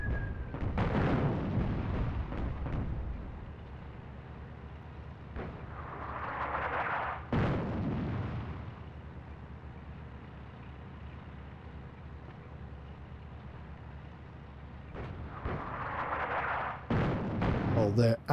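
Panzer tanks firing and shells exploding in a World War II North Africa real-time strategy game, heavy booms recurring every few seconds over a low rumbling battle backdrop.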